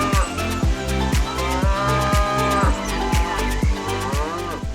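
Deep bovine lowing of bison sounds over a steady, thumping rhythmic beat that keeps a regular pulse throughout.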